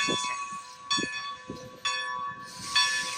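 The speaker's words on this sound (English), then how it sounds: "I think they are attaching the engine" Clanks and metallic thumps ring out at a rail yard on the Strasburg Rail Road as a locomotive couples to train cars, over a steady hiss and a sustained high tone.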